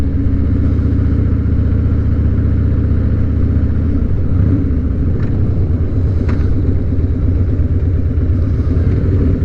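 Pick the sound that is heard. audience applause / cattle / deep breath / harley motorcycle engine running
harley motorcycle engine running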